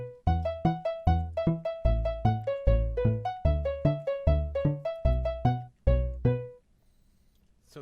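Minecraft note blocks pluck out a song in a bouncy, clipped melody of bright tones over a thumping bass line, playing loudly for about six seconds before cutting to near silence.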